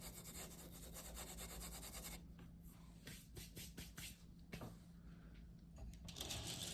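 Aluminum oxide powder rubbed by hand into a leather strop for carving tools, a close, steady scuffing rasp that pauses briefly and resumes in short strokes.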